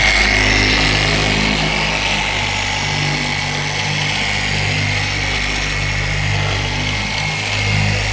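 A car polisher machine whirs continuously and loudly close by, a steady motor drone with no pauses or talk.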